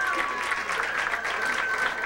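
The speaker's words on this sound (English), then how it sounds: "Y'all give her a round of applause." A pageant crowd at a lounge show gives a dense, continuous round of applause, loud and close, with scattered voices mixed in.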